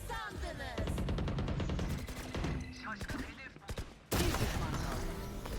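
Rapid gunshots in a Valorant match ring out as close, loud bursts of sharp, evenly spaced cracks, with a pause before a final heavy volley.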